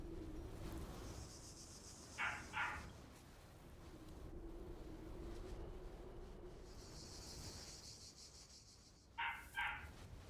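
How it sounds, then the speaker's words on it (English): A young dog gives two short double-barks, sharp and yipping, several seconds apart over a steady low background hum. "It's at that age it's discovered barking."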